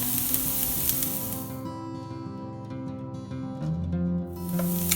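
Onions fry and brown in a pan with a steady, close sizzling hiss that softens briefly midway, then swells again, with faint tonal background sounds underneath.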